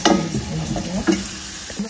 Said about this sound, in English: You can see that we did not add a lot of oil, but still our veggies are still frying.